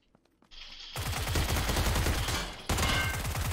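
Rapid automatic gunfire crackles in the video game PUBG, sustained bursts of closely spaced shots that start abruptly, pause for a split second and resume, loud and near with no talking over them.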